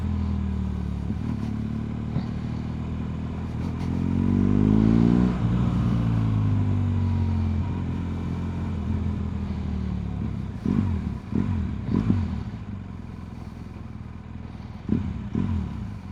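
A BMW GS motorcycle engine hums steadily while riding, with a rising rev in the middle and some clattering knocks later, wind and road noise throughout.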